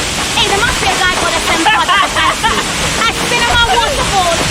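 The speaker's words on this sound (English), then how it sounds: "Aspinema Waterfall." Aspinema Waterfall near Accra pours in a loud, steady rushing roar close by, with excited voices talking over the water.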